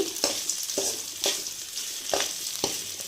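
Onions and curry leaves fry in a pan for a traditional drumstick-leaf bassaru, a continuous hiss of sizzling broken by regular spatula scrapes about every half second.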